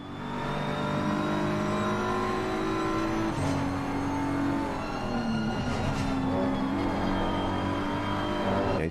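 Race car engines from a GT3 racing video game at Suzuka, including a McLaren, drone steadily and loudly, with pitch rising and falling through gear changes and corners, several cars close together throughout.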